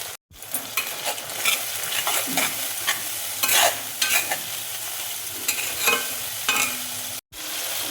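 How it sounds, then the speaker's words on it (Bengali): Ground spice paste frying with onions for fish curry, with turmeric added: a loud, continuous sizzle with busy stirring and scraping throughout and a brief drop in sound near the start and end, no voices. "এবার আমি বাটা মশলাটা দেখো দিয়ে দিচ্ছি, মশলা ধোয়া জলটা দেখো দিয়ে দিচ্ছি, হলুদ দেখো দিয়ে দিচ্ছি"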